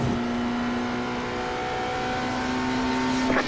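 A race car drones along the track with a steady high engine tone held at constant revs, loud and close, then a brief rise near the end.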